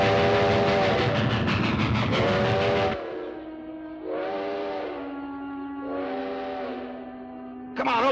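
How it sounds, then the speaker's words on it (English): A train in a 1955 western drama rumbles past loudly, then fades out while a whistle sounds in repeated long wavering blasts, with a clatter returning at the end. "We gotta flag down a train."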